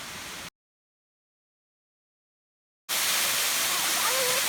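Big waterfall seen on a tropical hike, a steady loud broadband roar of falling water, cut off briefly by a gap of silence and then resuming at full strength.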